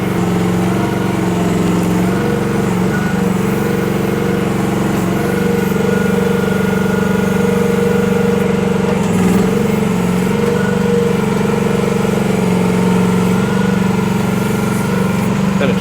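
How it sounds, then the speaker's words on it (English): The small gasoline engine of a one-ton Chinese mini excavator drones steadily and close by throughout, a constant mid-pitched rumble with no breaks. "You don't need to run this little gas machine at full power either."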